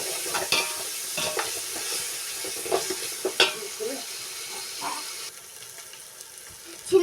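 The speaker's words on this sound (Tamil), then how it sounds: "இது நல்லா பச்சை வாசம் போகிற அளவுக்கு வதக்கிக்கோங்க" Onion and garlic paste sautéing in a pan for chicken biryani, with a steady soft sizzle broken by repeated scrapes and stirs of a spoon against the pan, close and fairly quiet with no talk.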